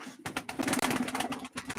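A gök bıyıklı pigeon cooing at a live pigeon auction, soft throaty coos close by amid rustling and handling noise.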